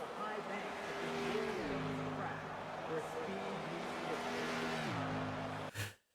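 Race cars lapping a track in NASCAR 25, engines droning with repeated shifts in pitch as they rev and change gear, heard under talk and ending in a sharp burst before cutting out.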